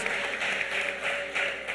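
Faint applause from a church congregation clapping in Jesus' name, a steady wash of many hands that pulses in waves over a short stretch.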